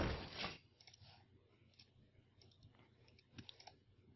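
Mouse clicks during a Hearthstone match: a few faint, scattered clicks, the loudest near the end, heard quietly in a near-silent room after a brief louder burst at the start.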